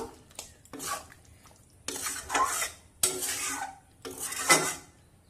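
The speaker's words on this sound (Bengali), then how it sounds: "এবার সব কিছু মিশিয়ে নেব" Yogurt, sugar and salt stirred into bhindi in a pan, heard as four distinct bursts of spoon scraping and clattering against the metal, separated by short pauses, close and fairly loud with a faint sizzle beneath.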